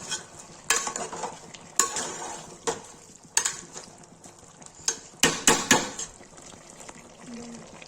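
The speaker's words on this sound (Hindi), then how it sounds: "इसमें डालेंगे लाल मिर्च, डालेंगे हल्दी, तो चला देंगे।" Chicken pieces stirred with red chili and turmeric in a pan, a utensil scraping and clattering against the metal in irregular bursts over a faint sizzle, with several sharper knocks toward the end.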